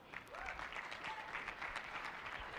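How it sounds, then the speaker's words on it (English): Audience applause at a fintech pitch competition, a steady, moderately distant wash of many hands clapping that holds evenly throughout without any speech over it. "Big round of applause for Jonas."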